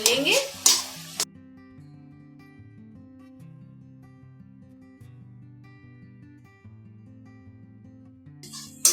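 Spinach stir-fried in a kadai scrapes and sizzles in a short, loud burst at the start and briefly again at the end, with steady low music filling the quiet stretch between.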